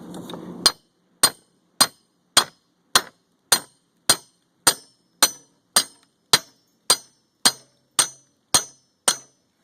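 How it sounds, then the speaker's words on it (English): Steady hammer blows on the end of a slate roof repair hook, slid up behind a nail under a slate: about sixteen sharp metallic taps at an even pace, close and clear, with no talking. "and then you hammer on the end."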